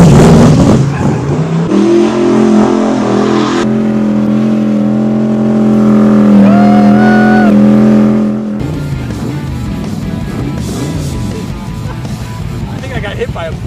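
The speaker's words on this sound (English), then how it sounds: "This basically was a motor that they pulled out of one of their race cars. And it's loud." A classic car fitted with an engine pulled from a race car roars loudly close by, its revs climbing and falling as it drives off, with people talking over the noise.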